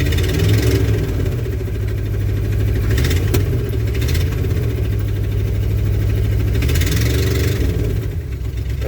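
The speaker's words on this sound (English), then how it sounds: "Does not sound very good. A huge exhaust leak someplace. Right off the manifold, it sounds like." A 1995 Ford F250 plow truck engine runs steadily with a loud, rough exhaust leak off the manifold, giving a continuous rumbling idle with occasional raspy surges, close and without speech.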